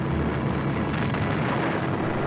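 Wartime 1940 bombardment rumbles as a continuous heavy roar of explosions and aircraft noise, broad and loud throughout with no distinct individual blasts.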